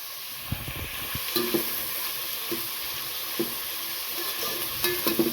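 Onions sautéing in a pan for a Chettinad mutton biryani, a steady broadband sizzle with repeated scraping stirs of a spoon at irregular intervals, close and moderately loud, with no talking.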